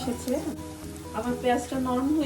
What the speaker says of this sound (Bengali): আমি পেঁয়াজটা দিয়ে কিছুক্ষণ নাড়াচাড়া করব যতক্ষণ না পর্যন্ত পেঁয়াজটা নরম হয়ে আসছে